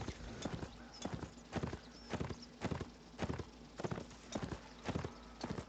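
Horse hooves clip-clopping in a steady, rhythmic gait in the video game Napoleonic Wars, close and clear throughout with no talk over them.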